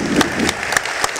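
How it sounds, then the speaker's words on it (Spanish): A brief burst of audience clapping during an ArgenCarne cooking class, close and fairly loud, with a few sharper individual claps standing out over a murmuring crowd. "Les quiero pedir un aplauso para su gente"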